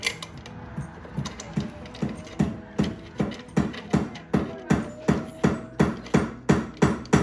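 Repeated tightening of bolts while assembling a RIKON 6-inch benchtop jointer, a steady run of close, evenly spaced ratcheting clicks and metallic knocks, about two per second, with no talking.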